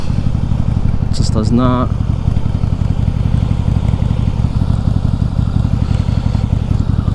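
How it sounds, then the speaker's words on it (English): A remapped motorcycle fitted with new parts rumbles steadily at close range, its deep engine note running throughout while someone talks over it. "Oh yeah, this bike sounds so good."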